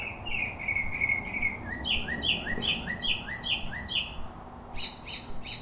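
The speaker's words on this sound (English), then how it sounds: "It's like 7 in the morning right now, so we got all the loud birds out right now." Birds call repeatedly outdoors in the early morning, a series of sharp, high squawking chirps in a steady rhythm over a constant hiss of insects and ambient noise.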